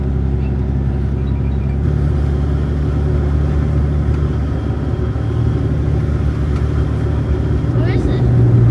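A car rolls onto a gravel road near former Air Force grounds, its engine rumbling steadily and close throughout, with road noise under a person talking.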